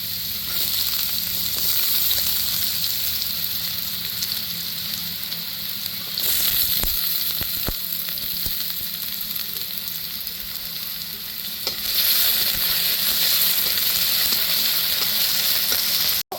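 Diced potatoes fry in a pan with salt, a steady, close sizzle that runs unbroken for the whole stretch and swells slightly in a few places, with no voices over it.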